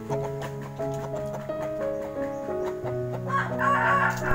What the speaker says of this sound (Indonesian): yang ini pejantan muda umur sekitar 7 bulanan